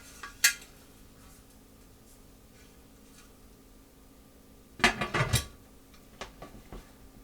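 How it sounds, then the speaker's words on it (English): A metal lid is set onto a canning pot on the stove for pork chili verde, a cluster of clanking, rattling metal knocks near the middle after an earlier single clink, with lighter taps trailing off in a quiet kitchen. "Put the lid on."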